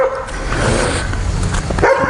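A dog barks at a passerby during a morning walk outdoors, close and loud yapping barks filling the short stretch with a brief pause near the end.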